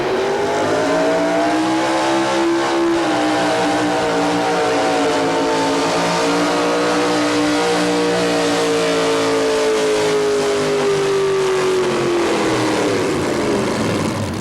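A pulling truck known as Whiplash roars at full power down the track at a 1987 tractor and truck pull in Louisville, Kentucky, its loud engine drone steady and sustained, with pitch sagging toward the end of the run.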